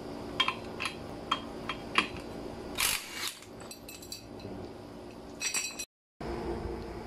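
Metal parts clinking and clicking together as a torque drive is fitted back onto the drive piece of a Rusi Rapid 150 scooter, a few sharp close taps followed by a brief louder rattle, with no talking.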